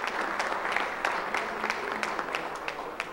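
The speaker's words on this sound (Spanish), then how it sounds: "Fuerte el aplauso para el profesor Luis Núñez." Audience applause at a talk on tourism in Puerto Plata, a steady wash of clapping from a crowd lasting a few seconds, even and sustained with no pauses.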